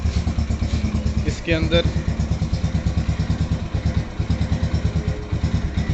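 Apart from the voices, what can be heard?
Yamaha 125 Z motorcycle engine started and running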